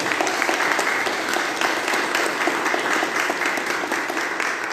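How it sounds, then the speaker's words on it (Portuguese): A church congregation applauds during a service, a dense, even burst of many hands clapping that holds steady and fairly loud for several seconds with no speech over it. "Quem pode aplaudir Jesus por isso aí?"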